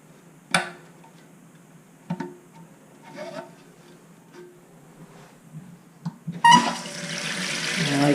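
A toilet tank refills after a new fill valve is installed and the supply is turned back on; a loud, steady rush of water begins near the end, following a few scattered clunks and handling sounds.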